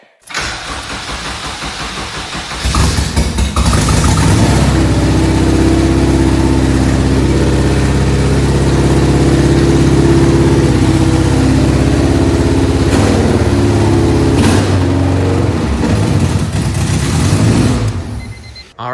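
Rebuilt Honda K24 engine in a Civic EK hatchback cranks and fires up, then settles into a loud, steady idle close by, with a couple of brief blips partway through before shutting off.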